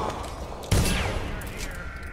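A single loud gunshot in the Dishonored video game cracks close and sharp, then decays into a lingering tail beneath game ambience.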